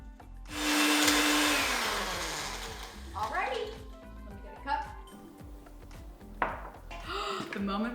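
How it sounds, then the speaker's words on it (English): A blender whirs loudly into motion while making a protein shake, then its motor drones steadily in the background while someone talks over it. "Turn the blender on and go."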